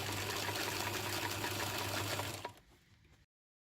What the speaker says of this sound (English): I prefer to use a zigzag on my sewing machine to stitch it down